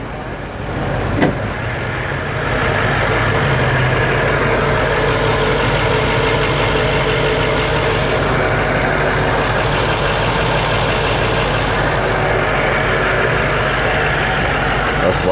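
A 2021 BMW X5 M Competition with its 4.4 liter V8 idling after startup, a loud, steady low rumble that holds evenly close by, with a brief knock near the start and no talking.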